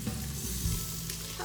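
Rice sizzling and being stirred in a Cookeo electric multicooker, a steady close crackle of frying with soft scraping movements.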